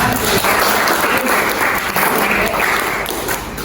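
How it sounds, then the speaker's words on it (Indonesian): A classroom group at a teaching-practice session in Malang breaks into steady applause, dense clapping from many hands that holds at full strength for several seconds, with a little talk underneath. "Beri aplaus dulu yang terakhir"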